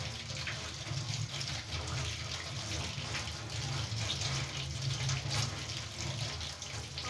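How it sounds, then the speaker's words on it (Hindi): Hands washed under a running tap, a steady gushing stream of water splashing into a sink, close and continuous, with no talking. "तो मैं ज़रा ना हाथ धो लूँ, पोछी वाले हाथ धो लूँ।"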